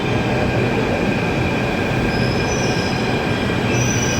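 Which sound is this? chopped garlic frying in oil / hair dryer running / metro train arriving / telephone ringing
metro train arriving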